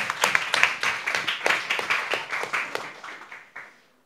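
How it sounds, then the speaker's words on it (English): Audience at a coding bootcamp demo day in Shanghai claps for a presenting group, a steady patter of individual hand claps from a modest crowd, close and moderately loud, tapering off and ending abruptly near the close. "Big applause for the first group."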